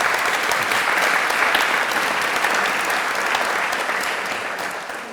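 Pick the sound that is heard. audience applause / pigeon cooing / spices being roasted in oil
audience applause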